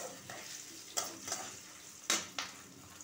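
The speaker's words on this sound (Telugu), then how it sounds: "పోపు వేగాలి." Tempering spices frying in oil in a pan for cabbage pachadi, a soft continuous sizzle broken by a few sharp scraping stirs of a spoon against the pan.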